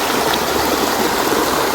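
Stream water rushing down over rocks into a deep pool, a dense, loud, continuous flow that fills the whole clip up close.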